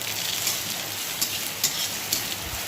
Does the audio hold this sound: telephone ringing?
no